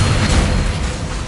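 A Confringo blasting spell explosion in the Hogwarts Legacy video game, a loud, dense rumbling boom that fills the whole moment and fades slightly, with no clear speech.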